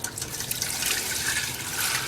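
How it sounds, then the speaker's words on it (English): Melted ghee is poured back into a ghee pan, a soft continuous liquid stream trickling close by for a couple of seconds. "So now I'm going to pour the ghee that we took out back into the ghee pan."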